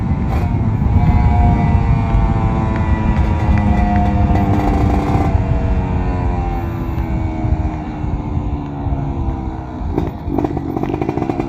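Kawasaki Ninja RR 150 two-stroke motorcycle engine buzzes loud and close, revving up and easing off with rising and falling pitch and a crisp rasp throughout.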